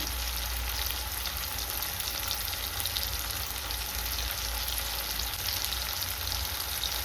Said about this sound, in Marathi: थोडं लवंग आणि दालचिनी हे टाकून आपण व्यवस्थित परतून घेणार आहोत